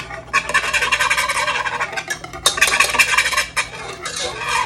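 A whisk scrapes and clinks rapidly against a metal pot of she crab soup, a busy, close, continuous rhythmic stirring with brief pauses.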